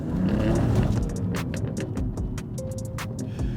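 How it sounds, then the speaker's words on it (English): A tuned 500-horsepower F80 BMW M3 with a 6-speed manual accelerates hard in second gear, its engine roaring loudly and steadily from inside the car, with scattered clicks and crackles and the noise easing slightly midway. "Wow, wheel spin, second gear."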